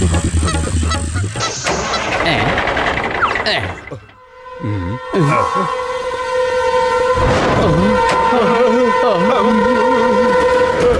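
A loud train horn blares in long sustained tones over rumbling rail noise in an animated cartoon, with a truck stuck on the railway track, brief shouting voices and a sudden drop in sound partway through.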